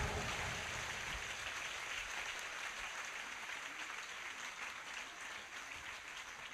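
Applause from a congregation at an evening sermon, steady dense clapping that fills the room without a break, loud and continuous throughout with no voices standing out.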